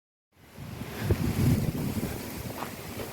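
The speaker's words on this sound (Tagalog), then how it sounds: "lumalakas na yung hangin." Strong wind gusting along a nature trail to Bride's Pool waterfall, a loud, rumbling roar of buffeting air against the microphone that rises in and holds steady.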